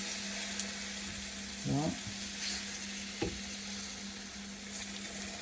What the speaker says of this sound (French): la pâte, pas trop liquide, on la fait couler dans la poêle